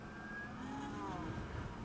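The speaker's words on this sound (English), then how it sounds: "It sounds like a police siren when I'm just cruising here at 20, 25." A 2015 Zero SR electric motorcycle cruising at about 20 to 25 mph gives off a thin, rising and falling siren-like whine that weaves through steady road and wind noise.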